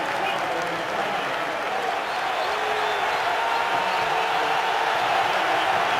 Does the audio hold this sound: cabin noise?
no